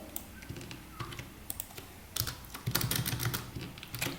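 Keys clatter on a computer keyboard as Java code is typed, irregular bursts of soft close clicks growing busier toward the end, no talking.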